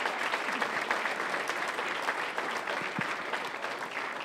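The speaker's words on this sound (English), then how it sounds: "Give them a round of applause." Audience applause at a book talk, a steady wash of many hands clapping throughout at moderate level, with no voices standing out.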